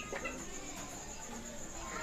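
Hens clucking softly over steady background insect buzz and farmyard noise, with faint chatter from the birds throughout.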